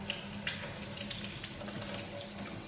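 Warm water runs steadily from a tap into a sink while hands are washed, a soft continuous splashing stream heard alone and fairly quiet.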